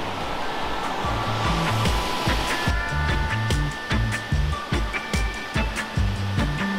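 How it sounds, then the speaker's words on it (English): Cranny Falls in Northern Ireland roars as a steady broadband rush of falling water, loud and constant throughout, with some rhythmic low thumping layered over it in the second half. "So here we are at Cranny Falls"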